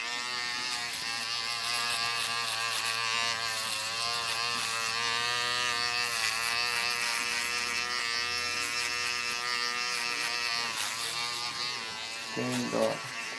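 An electric razor buzzes steadily and close for most of the stretch, its tone wavering as it moves over the skin, before tapering off near the end with a brief handling rustle.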